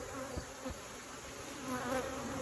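Honey bees buzz at an opened hive during a fall inspection, a dense, low, continuous hum of many insects close by with a couple of faint knocks, no voices.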